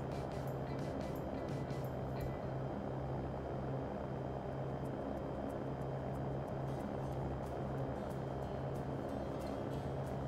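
A Cirrus SR20 single-engine propeller plane in the X-Plane 11 flight simulator drones at a steady, loud, unbroken engine hum with a constant low tonal buzz throughout.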